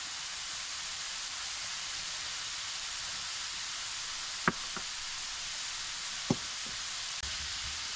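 A pot of chili sizzles steadily as peppers, green onions, garlic and tomatoes go in, a constant loud hiss of frying with two sharp clacks of utensil against the pot.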